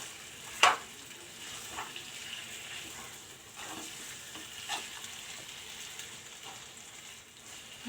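Steam chicken masala frying and being stirred in a pan, with a soft steady sizzle throughout and a sharp scrape of the spoon near the start plus a few faint stirring clicks.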